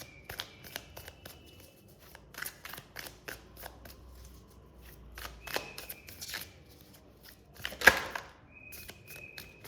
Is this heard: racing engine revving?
no